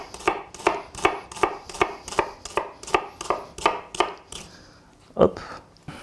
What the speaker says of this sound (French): on va prendre un oignon rouge. On va essayer de le couper le plus finement possible.